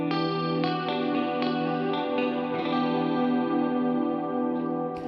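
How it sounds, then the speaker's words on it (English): An electric guitar chord rings out through reverb, held and sustained with a few light re-strums, its bright tone blooming and decaying smoothly with no talking over it. "if I just played that chord with just the electric and the reverb, it sounds good, but it lacks definition"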